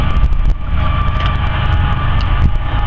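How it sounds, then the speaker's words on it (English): Train passing close by a campground, a loud steady rumble and rolling roar with rhythmic clanks, no voices. "There's a train."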